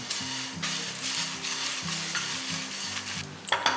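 Whole spices and dried red chillies dry roasting in a pan for country chicken chops, with a steady close sizzle and stirring scrapes throughout, a brief louder clatter near the end.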